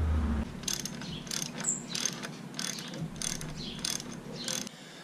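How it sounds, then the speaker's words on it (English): A ratchet wrench clicks in repeated rhythmic bursts while removing bolts underneath a tractor on a vegetable farm, close and clear with no talking. "there's two bolts I have to take out"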